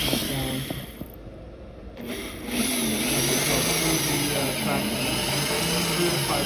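A power drill whines steadily and loudly, driving a screw through fiberglass into an aluminum rib, pausing briefly, then spins up again into a continuous high-pitched whir.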